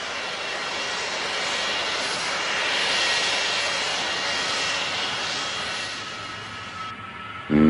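A large, heavy airplane takes off from the runway, its engines building a steady, loud roar that swells and holds for several seconds before a sudden burst at the very end.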